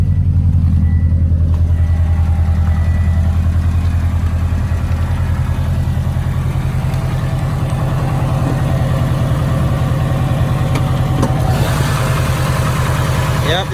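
A turbocharged Subaru Impreza STI engine runs at a steady, loud idle close by for the whole stretch, its low rumble constant, with any blow-off valve sound blended into the engine noise.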